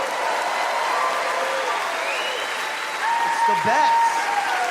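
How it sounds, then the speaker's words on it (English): A stand-up comedy crowd in America keeps up continuous applause and cheering, a broad steady roar that swells slightly near the end while the comedian talks over it. "You guys are cheering because you know this is way better than having kids."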